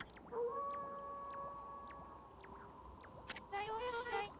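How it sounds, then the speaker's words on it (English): Kemu, a wolf-like creature in the video game Ōkami HD, lets out a long, sustained howl that rises and holds, then breaks into a wavering second cry, set against a quiet game background. "That was Kemu's howl."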